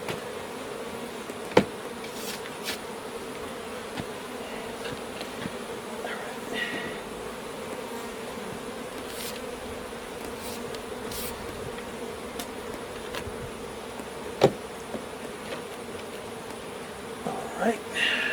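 Constant buzzing of a swarm of bees up close, with occasional sharp taps and clicks cutting through the drone.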